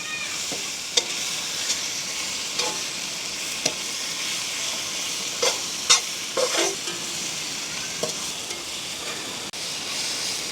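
A fish curry with tomato and chillies is stirred in a sizzling pan, with a continuous frying hiss and scattered scrapes of the spoon against the pan at irregular intervals.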